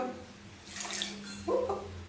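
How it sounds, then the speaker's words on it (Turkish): Water poured from a container onto sugar in a pan to start caramel for crème caramel, a close, splashing rush in two short bursts with no talking. "Suyumu koyuyorum."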